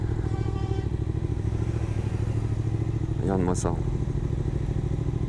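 Suzuki GSX-8S motorcycle on the winding road to Cilaos with its 400 bends, a steady engine drone and wind rush heard from the rider's position while someone speaks briefly over it.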